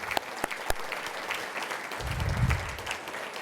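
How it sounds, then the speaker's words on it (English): Audience clapping at a community awards ceremony, a short steady patter of applause from a crowd that swells briefly toward the end, heard at moderate distance. "A round of applause, please."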